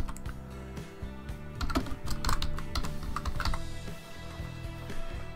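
Rapid clacking keystrokes on a computer keyboard, an irregular run of close, crisp taps that thickens into a busier burst midway and then tapers off, heard alone without talk.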